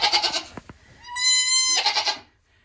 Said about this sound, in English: I've had guinea pigs bigger than this baby goat.